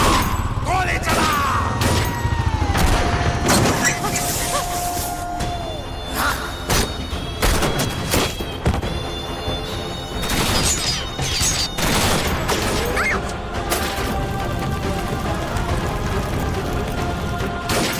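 Gunfire in a TV drama scene: several sharp cracks and bangs burst out at irregular intervals, loud and close, mixed with crashes, thuds and people talking.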